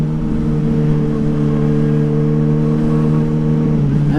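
A motorcycle held in first gear at about 30 km/h gives off a loud, steady engine roar with a strong, even drone that barely changes for the whole stretch.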